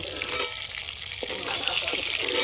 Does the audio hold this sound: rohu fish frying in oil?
yes